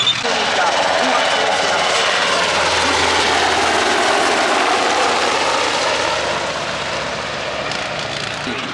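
Helicopter flying over a military tank display, a loud steady broadband engine and rotor roar that holds throughout and fades slightly toward the end, with voices mixed in underneath.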